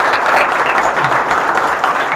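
Audience applause at a public gathering: a dense, loud wash of clapping that holds steady for a couple of seconds.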